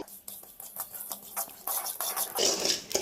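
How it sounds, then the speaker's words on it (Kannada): Poppy seeds frying in a pan for a sweet kadubu, giving a dry, irregular crackle and pattering that grows busier and louder toward the end, with light scraping as the seeds are stirred. "ಗಸಗಸೆನ ಸ್ವಲ್ಪ ಚಟಪಟ ಅನ್ನೋವರೆಗೂ ಚೆನ್ನಾಗಿ ಫ್ರೈ ಮಾಡ್ಕೊಳ್ಳಿ"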